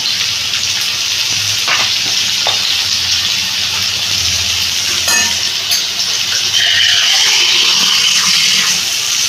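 Ground cumin, turmeric and salt sizzle loudly and steadily in a hot pan with oil, a continuous bright frying hiss with occasional stirring clinks, growing slightly louder toward the end.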